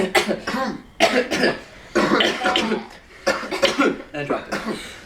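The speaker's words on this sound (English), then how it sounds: "And then start coughing." A person coughing repeatedly at close range: a series of harsh, loud bursts in uneven clusters, separated by brief gaps, with some throaty vocal quality between fits.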